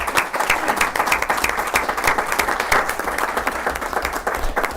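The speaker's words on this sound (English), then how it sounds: "So let's give Sarah a nice round of applause." Audience at a school board of education meeting gives a warm round of applause, dense overlapping hand claps sustained evenly throughout, moderately loud with no talking.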